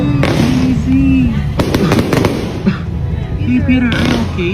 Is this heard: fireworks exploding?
yes